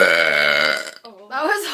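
A long, loud, tonal burp from a woman rolls out for most of a second, followed by a shorter second belch, close to the listener.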